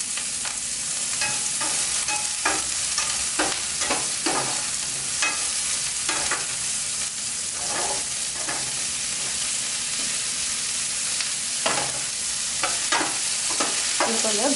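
Onions and cashews fry in a pan for paneer butter masala, giving a constant loud sizzle broken by repeated scraping strokes of a spoon stirring through the mix.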